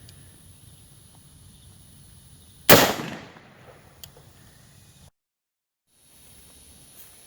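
A single sharp, loud 5.56 rifle shot strikes a homemade ceramic armor plate that has already been damaged. A brief ringing decay follows, then a faint tick, over a quiet outdoor background with no talking.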